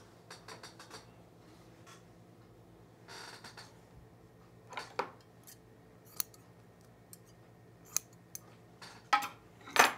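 Scissors snip through fabric while culottes are sewn, a string of sharp, close, separate cuts that sit apart at first and come more often and louder toward the end, set against a quiet room.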